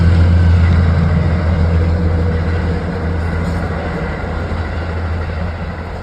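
A Metrolink commuter train rolls past in the Mojave Desert as a loud, steady rumble with a strong low drone that eases slightly over six seconds, with no voices.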